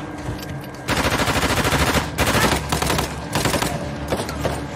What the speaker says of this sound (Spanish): Escopeta automática